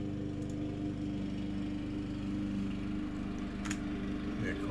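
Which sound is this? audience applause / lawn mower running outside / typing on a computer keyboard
lawn mower running outside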